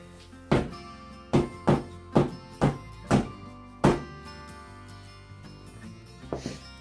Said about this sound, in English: I am going to bang down the mold a little bit on the floor